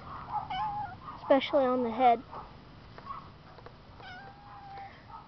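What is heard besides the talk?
cat meowing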